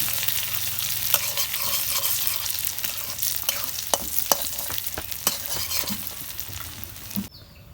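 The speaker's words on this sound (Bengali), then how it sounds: "তেল গরম হয়েছে, এখন আমি পেঁয়াজ দিয়ে দিব।" Onions frying in hot oil in a wok, a steady dense sizzle with scattered sharp crackles and stirring clicks throughout, loud and close with no talking.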